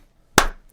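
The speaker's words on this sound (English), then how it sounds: "I've been just doing claps all night." A single sharp hand clap, close and loud, with a short decay into quiet.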